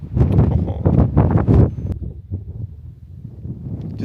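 Gusty wind buffets the microphone near a mountain summit, loud rumbling bursts that ease off and return, with no speech over it.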